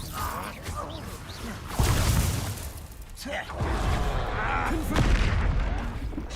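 Spell combat in the game Hogwarts Legacy, with a Bombarda blast among heavy booming impacts, crackling bursts and whooshes. Voices speak over the fighting.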